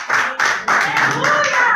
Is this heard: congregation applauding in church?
yes